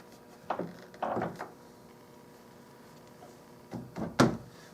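A wooden drawer being pushed into an antique nightstand during restoration, heard as two clusters of short scraping, sliding thumps separated by a quiet pause, close and fairly soft.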